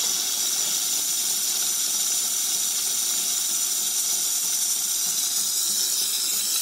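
Steam wand of a Jura Impressa Z9 coffee machine hissing steadily and loudly throughout, a continuous bright rush of escaping steam with no talk.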